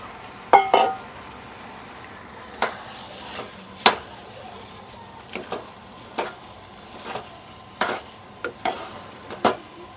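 Rice with spices and leftover prawns stirred in a pot for prawn pulao, a spoon scraping and clinking against the metal in irregular strokes over a faint sizzle.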